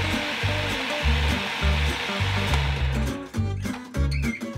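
A blender whips ricotta and honey, its motor whirring loud and steady with a rough, pulsing churn that dips and surges as the mix thickens.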